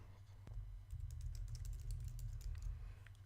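Computer keyboard typing: a run of light, quick key clicks in an irregular rhythm, close and soft over a low steady hum, with one sharper tap near the start.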